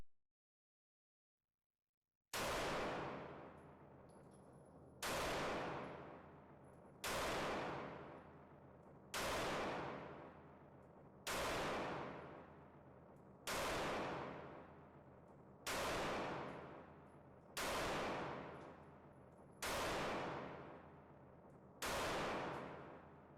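Nine 9mm pistol shots at a shooting range, comparing a CZ P-10S and a Springfield Hellcat RDP, fire one at a time at a steady pace about every two seconds, each a loud, close crack with a decaying ring.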